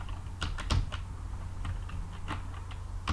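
Fingers typing a script name on a computer keyboard, with quick, quiet key clicks arriving in short irregular bursts, close by and with no voice.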